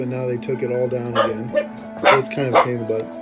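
Several household dogs bark and yip in short bursts, some whimpering among them, close by and loud, over and between a person talking.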